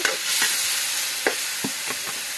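Adobo cooking in a pan, with a steady loud sizzle and frying hiss and several short scraping stirs, close by with no talking.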